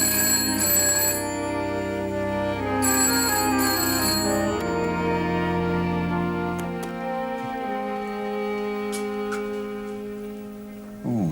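A telephone rings with a repeated bright bell-like trill in short bursts amid a busy room tone, moderately loud and steady, with no voices over it.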